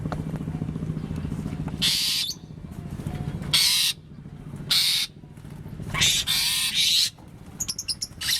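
Birds calling at a rabbit park in Cianjur, short bright repeated call bursts standing out over a low engine-like hum, fairly close and alone without talk.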